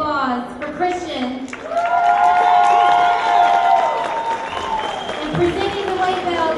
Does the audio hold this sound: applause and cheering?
yes